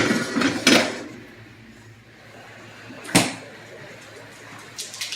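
A metal pot of okra slid across a stovetop to a back burner, with a sharp clank early on and another near the middle over a quiet kitchen background.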